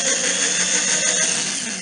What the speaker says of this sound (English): I marked my pilot holes, which I will carefully drill with a 1/8 inch drill bit